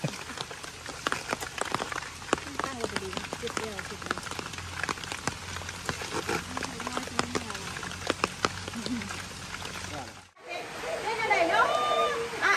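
Heavy rain pours steadily on a surface, a dense patter of drops with louder splashes. People chatter over it, and near the end the sound cuts out briefly before the downpour returns with a brighter hiss.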